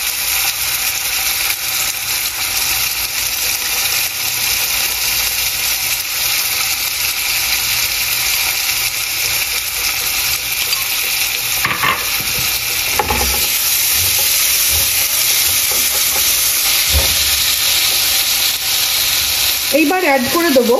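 Fennel and green chilli paste sizzles loudly in hot oil with asafoetida, a steady close hiss with occasional stirring scrapes and brief bursts of crackle.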